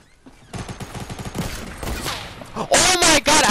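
Rapid bursts of gunfire in the video game Fortnite, played on a PC, crackle in quick volleys and build to louder, sharper shots at the end, while a voice shouts excitedly over them.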